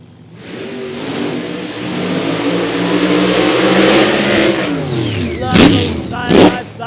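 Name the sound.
funny car drag racing engines firing and revving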